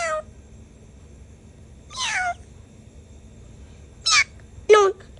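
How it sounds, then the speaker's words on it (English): A lost cat meows several times, short, rising and falling cries spaced a second or two apart, close and clear against a quiet background. "Say hi, little kitty."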